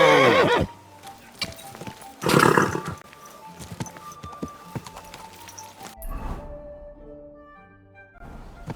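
Horse in the video game Kingdom Come II giving a loud whinny, then clip-clopping hooves at a walk, a second snorting neigh following, with quieter hoof steps toward the end.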